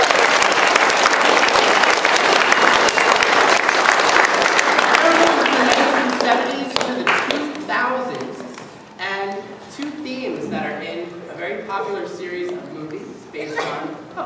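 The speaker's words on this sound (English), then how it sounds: "Let's give him another round of applause" Middle school concert audience bursts into loud, dense applause that fades after about six seconds as an announcer begins speaking over the last scattered claps.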